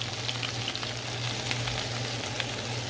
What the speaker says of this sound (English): add a little bit of flour and just stir that, let that flour cook out